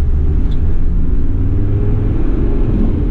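A 1991 Toyota Land Cruiser PZJ70 diesel 4x4 on the move, a steady loud low engine rumble and drone with road noise, no voices.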